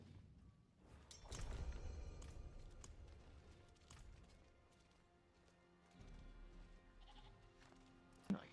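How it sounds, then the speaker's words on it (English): Goat bleating in the dungeon game Diablo IV, faint and quiet amid low rumbling game ambience, with soft hoof-like clops and scattered clicks over several seconds. "Little goat."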